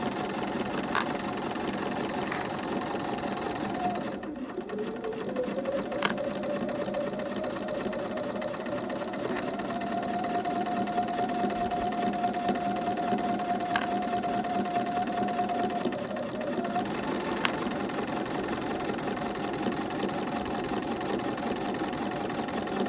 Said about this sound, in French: vous allez tourner et coudre tout le long au plus près.